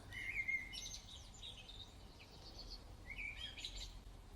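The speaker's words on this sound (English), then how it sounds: "the merry chatter of the birds" Several birds chirp and chatter in a natural outdoor setting, the bright calls coming in short bursts over a steady, faint background hum.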